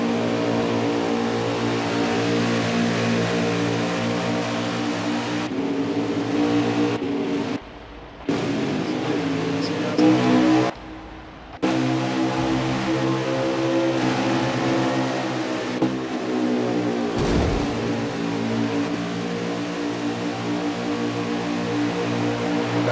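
Stock cars race at Auto Club in a racing video game, engines droning and revving continuously at high pitch with brief dips as gears shift, loud and sustained without talk.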